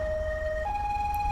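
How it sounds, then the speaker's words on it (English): Old two-tone Metropolitan Police siren from a GTA 5 siren mod, the pitch alternating between two steady notes over a low rumbling engine, loud and close, with no talking. "I have Albo's Siren Mastery mod in, so this is what it's going to sound like when we pop our lights on"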